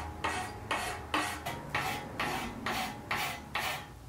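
A file rasps back and forth across a small lock tumbler lever, about eight even rhythmic strokes, close and fairly loud with no talking.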